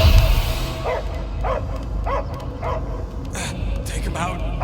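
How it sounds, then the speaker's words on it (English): A possessed creature's head in Marvel's Guardians of the Galaxy gives off dog-like barks and yips, several spaced bursts over a steady rumbling backdrop, loud and close. "I hear only barking"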